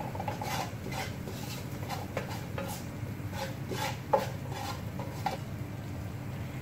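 A spoon stirs vegetable beryani in a pot with sautéed onion and garlic, making steady soft scraping and rubbing strokes against the metal, close up and fairly quiet.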